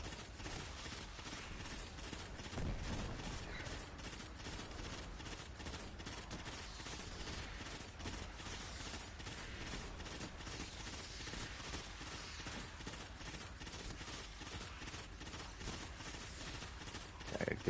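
Rapid automatic gunfire from a firefight against enemies in Destiny 2, a steady, faint stream of shots that keeps going without a break, with no talk over it.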